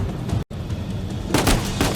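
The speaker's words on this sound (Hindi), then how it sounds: "गोली मारियां फिर से शुरू कर दी।" Gunfire in Uncharted 4: A Thief's End, harsh continuous shooting with a brief dropout, then a louder burst of rapid shots near the end.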